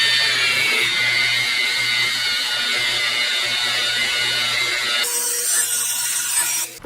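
A machine polisher works car paint during scratch repair, giving a steady whirring drone with rubbing texture that runs continuously, then changes tone near the end as pressure or speed shifts.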